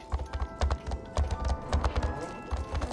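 Horse hooves clip-clopping in the video game Star Stable, a steady run of quick, evenly spaced thuds at moderate volume over a soft ambient game background.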